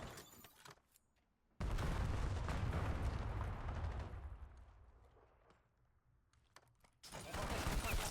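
Gunfire and blasts in the multiplayer shooter game Call of Duty Black Ops 7, with a loud dense burst of shots and explosions that swells, tapers off, then returns strongly near the end.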